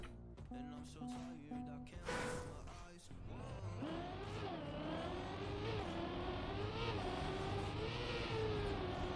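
Race car in a racing video game, its engine climbing and revving through gears after a brief burst of other game sounds, steady and rising throughout.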